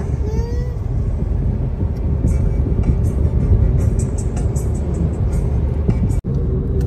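Continuous low rumble of road traffic jammed on Kasara Ghat, with vehicle engines droning steadily close by and no talking.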